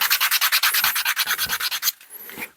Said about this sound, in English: we'll just go over with the sandpaper